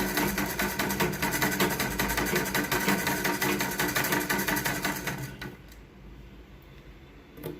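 A freshly oiled sewing machine runs at a fast, even clatter for about five seconds, then slows and stops, leaving a faint mechanical hum.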